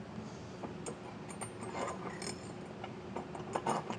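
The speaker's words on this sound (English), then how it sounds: "Slide our long bolt through and we'll just hand tighten the nuts for now." Nuts being hand-tightened onto a long bolt while fitting Carr custom-fit side steps to a 2019 Ford F-150, with faint metallic clicks and small ratcheting ticks scattered over a steady background hum.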